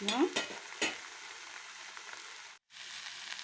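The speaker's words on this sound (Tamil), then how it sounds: "இது இப்போ மசாலா பொருட்கள் போட்டதுன்னா நல்லா வணக்கி விட்டாச்சு" Cumin, pepper and other spices sauté with onion and tomato in a pan under a soft, steady hiss. A few sharp spatula scrapes land near the start, and the sizzle cuts out briefly before resuming quietly.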